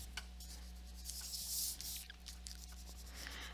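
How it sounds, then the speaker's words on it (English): Soft, close scratchy rubbing of a kneaded eraser against paper while cleaning edges of a charcoal drawing, a few quiet strokes over a steady low hum. "I'm going to clean up my edge using my kneaded eraser."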